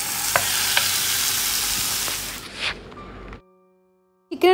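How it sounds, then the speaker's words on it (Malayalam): Marinated chicken sizzles in butter in a pan, a loud steady frying hiss that runs for a couple of seconds, then cuts off abruptly into near silence before a brief clatter at the end. "നമ്മൾ മാരിനേറ്റ് ചെയ്ത് വെച്ചിട്ട് ചിക്കൻ ഇട്ട് കൊടുത്ത് ഒന്ന് വേവിച്ചെടുക്കുകയാണ്."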